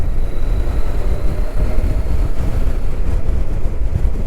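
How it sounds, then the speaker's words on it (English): Voge 525 DSX motorcycle running on the road, its engine a steady drone beneath heavy, constant wind rush, close and continuous without clear distinct rev peaks. "The engine is eager to rev."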